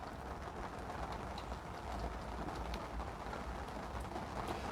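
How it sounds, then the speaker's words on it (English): Steady Belgian rain falls without pause, a dense hiss of drops spattering on nearby surfaces at even loudness throughout, with no voices over it. "that's the Belgian rain"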